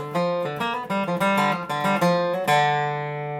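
A short acoustic guitar lick of picked single notes, with a pitch slide into a final ringing note that sustains and fades, played alone.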